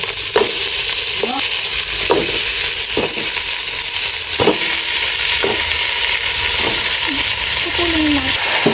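Chicken pieces sauté in a pot for chicken tinola, making a loud, continuous frying hiss with occasional metallic scrapes and taps of a stirring spoon, close up and with no talk.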